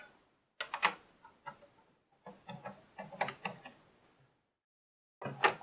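Someone swaps the presser foot on a sewing machine, making a run of close, sharp clicks and small metallic rattles in uneven bursts, separated by brief pauses of silence, with a final clack at the end.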